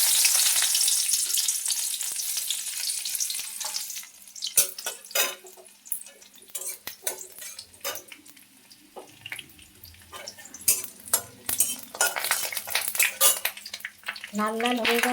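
Chopped garlic frying in hot oil in a wok, after dried chillies, for a brinjal recipe: a steady broadband sizzle with crackling bursts and occasional stirring clatter, fairly close and continuous throughout.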